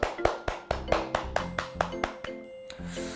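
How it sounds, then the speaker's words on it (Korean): Rhythmic clapping of thanks and encouragement at the close of an online church Bible study class, with crisp, evenly spaced claps repeating about four times a second over a faint sustained tonal background. "수고하신 모든 분들께 격려와 감사의 박수 하도록 하겠습니다."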